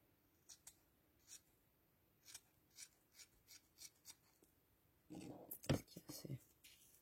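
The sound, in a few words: scissors cutting a small piece of velvet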